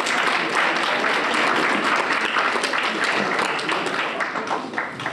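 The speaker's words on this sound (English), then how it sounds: "Give yourselves a round of applause." An audience at a university Women's Day celebration claps in a steady, dense round of applause that fills the room for several seconds before starting to thin out near the end.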